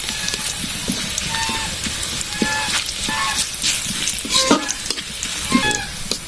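Onions and garlic fry in hot oil for a gram-leaf greens dish, a dense, bright, continuous sizzle with small crackles and stirring scrapes throughout, close up and without speech.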